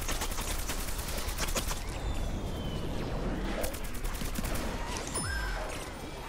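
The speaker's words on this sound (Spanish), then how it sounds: "¿Quién me está disparando?" Rapid gunfire in the shooter game Plants vs Zombies Garden Warfare 2, clusters of quick crackling shots in the first seconds, then scattered bursts and a rising whistling effect over continuous game noise.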